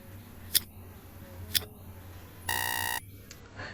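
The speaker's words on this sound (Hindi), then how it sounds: "टाइमर स्टार्ट हो चुका है।" A quiz countdown timer gives two sharp ticks about a second apart, then a short buzzer tone and a faint final click, all close and clear against a low hum.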